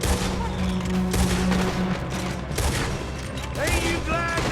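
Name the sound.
gunfire in video game Red Dead Redemption 2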